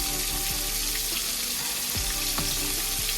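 Chicken fried steak frying in a pan, a loud dense sizzle and crackle with low rumble and a few sharp pops throughout.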